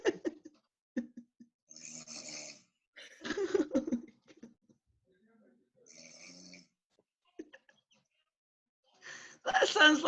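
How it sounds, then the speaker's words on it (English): Sleep snoring recorded at night comes in separate snorts and rasping breaths with quiet gaps between them, faint and moderately close, finishing with a louder snore. "it's all snoring"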